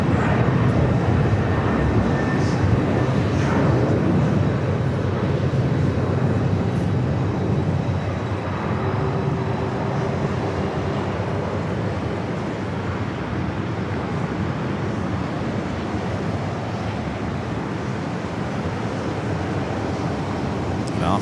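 A Lufthansa Boeing 747-400 takes off from runway 4 Left at JFK, a loud, sustained jet roar that fills the whole stretch, strongest at the start and easing slightly as it goes on.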